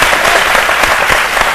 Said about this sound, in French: Merci encore, on applaudit très fort Loïc